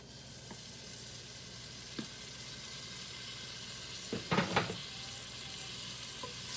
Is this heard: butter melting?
yes